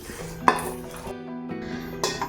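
A metal spoon stirs salt and tempering into cooled rice for temple-style curd rice, knocking and scraping against the vessel with a sharp clink near the start and another near the end, close and clear with no talk.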